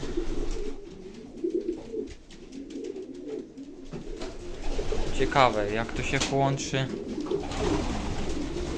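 Pigeons coo softly in a loft, their repeated throaty calls growing clearer midway, while someone talks over them in Polish.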